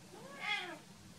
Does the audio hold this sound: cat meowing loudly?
yes